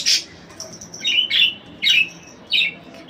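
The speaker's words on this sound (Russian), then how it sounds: "Мои попугайчики сошли с ума" Pet budgerigars chirp excitedly in several bright, close bursts of squawky tweets, about five calls spaced through a short stretch with faint room noise between them.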